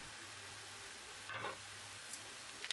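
Pepper paste filling with spices is stirred in a pan: a faint, soft sizzle underneath, a brief scraping swish of the spoon midway, and a couple of light taps near the end.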